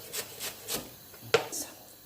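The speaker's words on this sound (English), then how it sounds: "So my spring onions, again I'm just going to slice it on the diagonal." A knife slices spring onions on the diagonal on a cutting board, giving a handful of soft, close chopping taps in an uneven rhythm, one sharper knock near the end, no voices.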